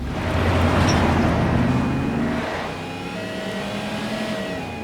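An ambulance drives along a road, its engine droning loudly and steadily up close with a faint tone above, then easing slightly as it carries on.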